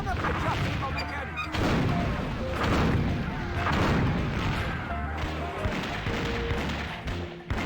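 A semi-automatic cannon in Curse of Monkey Island fires repeated heavy booms and crashes in rapid succession, loud and continuous across the stretch, with no talk over it.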